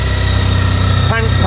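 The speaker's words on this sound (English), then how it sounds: "She'll be back onto fast idle because she's cold." A cold 2015 Honda ST1300 Pan European V4 sports tourer with ABS sits on fast idle, a steady close engine drone with low throbbing pulses, briefly overlapped by a short spoken interjection near the end.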